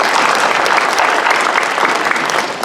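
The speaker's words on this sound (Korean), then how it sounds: "우리 한번 크게 박수 한번 하겠습니다." A congregation at a New Year thanksgiving worship service bursts into loud, dense applause, many hands clapping together in a brief, full burst that holds steady before easing slightly.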